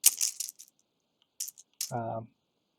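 Dice rattle and clatter in quick bursts across a table during a tabletop wargame, heard close, with a short voiced sound near the end.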